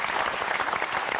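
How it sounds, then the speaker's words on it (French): A TV studio audience on a French Sunday variety show claps warmly, a dense burst of applause that holds steady throughout, close and full, with no speech. "Applaudissez-le encore"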